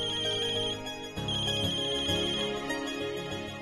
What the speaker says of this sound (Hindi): हमेशा गलत टाइम पे बजता है ये फोन।